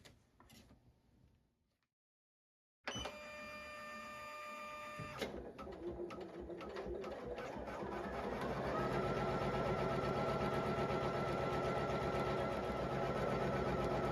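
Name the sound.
Poolin EOC06 embroidery machine stitching applique tack down stitch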